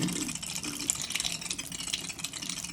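Water rushes and gurgles steadily through the new replacement filters of a Pure Blue H2O purifier, a continuous close hiss with no talking.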